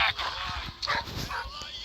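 A dog in the horror video game Metel yelps and whimpers in short bursts, fairly faint and mixed under a player's talk and game ambience.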